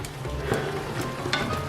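Vegan pasta sauce with basil and cream sizzles in a pan while being stirred, giving a close, steady frying hiss broken by a few scraping stir strokes.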